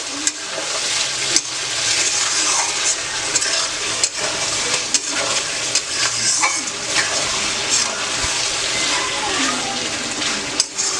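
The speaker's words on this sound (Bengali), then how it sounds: "এবার এগুলোর সঙ্গে ভালো মতো আরও কষিয়ে নিতে হবে।" Vegetables with spices are sautéed in a pan, giving a steady, dense sizzle with frequent scraping stir strokes and small clinks throughout.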